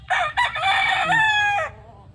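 A rooster crows at a backyard gamefowl farm, one loud, close cock-a-doodle-doo that starts with a couple of short clipped notes and stretches into a long held call before breaking off.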